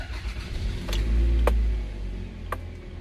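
A car engine starting and settling into a low idle after a DIY oil change, the low rumble swelling then easing, with a few sharp clicks and taps nearby.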